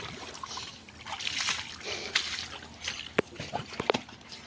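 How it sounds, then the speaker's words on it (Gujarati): Water is splashed and poured over a dog at bath time, with irregular sloshing and dripping bursts that grow sharper toward the end. A voice talks faintly in the background. "આજે અત્યારે પાણી છાંટીએ છીએ"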